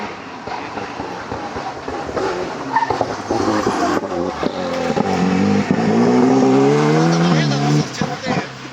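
An Alpine rally car accelerates through a special stage at the Rallye du Laragnais, its engine note rising and swelling as it nears, with voices talking over the passing car.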